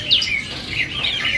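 Bar-winged prinia (ciblek) songbird singing at a bird kiosk, a few high thin chirping phrases repeating close and fairly loud over faint background noise.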